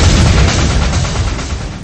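A massive explosion tears through a North Sea oil platform, a loud, dense roaring blast rumble filling the whole clip and slowly fading, with no voices.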